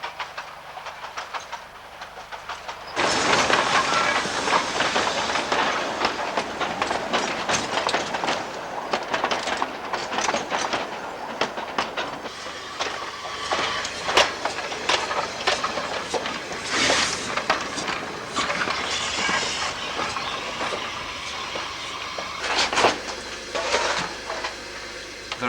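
Narrow-gauge Isle of Man steam train running through the Manx countryside, a loud continuous rumble with rhythmic clatter of wheels and bursts of steam that rise suddenly after a quieter start and continue throughout.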